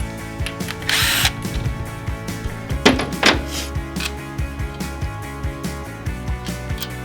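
A power drill or impact tool backs old oil pump bolts out of a blown-up Harley engine in a home workshop, with a loud burst of tool whine near the start and repeated short mechanical clicks and thunks throughout.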